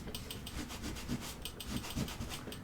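Damp cloth rubbing paint off a surface in a studio, a quiet rhythmic scrubbing with repeated short strokes, faint and close.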